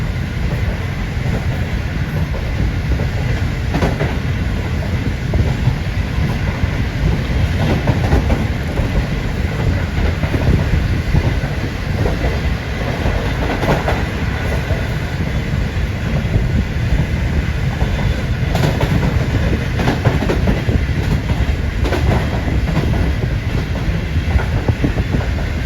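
Shalimar Express passenger train running into Bahawalpur railway station at night, a long steady loud rumble with continuous wheel clatter and rail noise, no voices.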